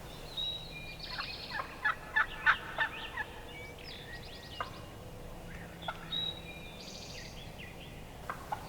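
A young wild turkey jake gobbles in a spring field, with two bursts of rattling gobbles several seconds apart, fairly distant, over quiet outdoor ambience.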